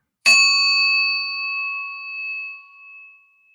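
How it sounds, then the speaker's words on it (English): A single meditation bell struck once, ringing out with a bright, clear tone that decays slowly over about three seconds into silence. "I played the sound of the bell. I'll play it again."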